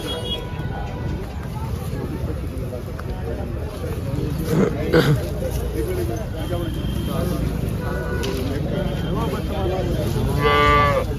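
HF and Jersey cattle low amid a busy crowd at the Chalisgaon cattle market, with constant chatter and babble and a few moos rising over the noisy market din.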